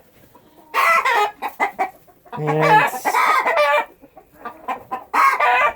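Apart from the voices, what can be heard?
young roosters and chickens clucking in coop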